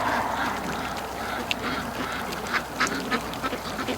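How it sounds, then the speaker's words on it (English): Many free-range ducks quack in a busy, overlapping chorus as they head toward a lake in the morning, with sharper calls standing out over steady flock chatter. "Getting the ducks going, that many ducks going to the lake."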